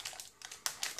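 Plastic packaging of a Nexus 5 hands-free earphone kit crinkles as it is opened, a few close, quiet rustling bursts with brief pauses between them.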